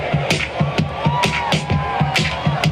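Stadium crowd at a baseball season opener clapping in a steady rhythm along with a song played over the speakers, loud and close, with some cheering mixed in.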